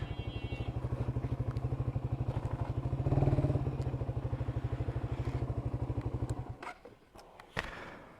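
A motorcycle engine idles with a steady, rapid low thrum near a district council rest house, then cuts off, followed by a few clattering thumps as the bike is parked and put on its stand.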